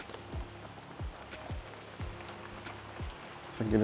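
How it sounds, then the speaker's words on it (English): Steady straight-down rain during Hurricane Hilary in California at dawn, a soft continuous patter with a few sharper drips, heard alone without talk. "It started raining."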